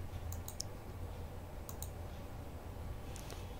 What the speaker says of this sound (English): For installing OpenVPN, I'll be typing some commands in the console terminal.